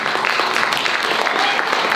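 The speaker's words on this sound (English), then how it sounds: "Give yourself a round of applause" An audience applauds at a dance and drum company's stage show, a steady crowd clapping with some voices mixed in.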